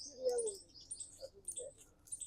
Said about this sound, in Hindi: आपको बैकग्राउंड में गिलहरी की आवाज भी सुनाई दे रही होगी, और चिड़िया भी हैं हमारे